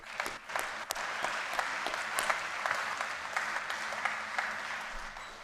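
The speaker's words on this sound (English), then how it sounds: "One more round of applause for our performers." A school assembly audience applauds its performers, a sustained crowd clapping at moderate volume with a few sharper individual claps standing out, continuing steadily without talk.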